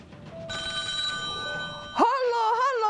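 A telephone rings loudly and steadily for an incoming call in a radio studio, a bright electronic ring that continues and shifts pitch near the end.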